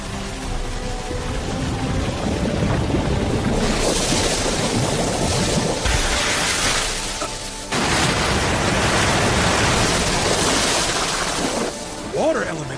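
Water elemental magic effect in an anime about a boy reincarnated into a world of magic: a loud, sustained rushing, surging wash like crashing surf, broken by a brief drop partway through, with voices talking over it.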